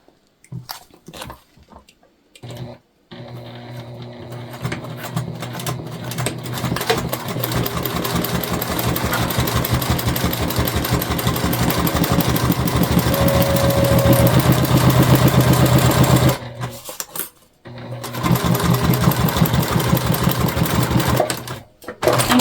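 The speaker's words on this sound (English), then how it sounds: "So we're gonna sew all the way through." A sewing machine runs in a long, fast continuous burst as it stitches through the side seam of a self-drafted tote bag. Short starts and stops come before and after the main run.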